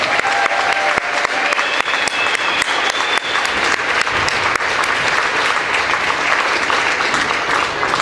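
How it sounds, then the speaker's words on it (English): A gym crowd at a varsity volleyball match gives loud, continuous applause honoring senior players, dense clapping with scattered cheers running unbroken throughout. "Please give them all a big round of applause."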